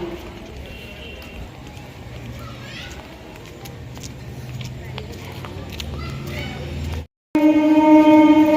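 A through train runs past a railway platform, a continuous rumble with rhythmic clattering of wheels on the rails. Voices can be heard, and a loud, tonal blast sounds near the end.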